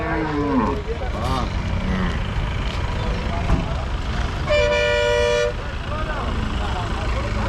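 A cow moos several times amid a busy cattle market in Vaniyambadi, with people talking nearby and a vehicle horn honking briefly in the middle.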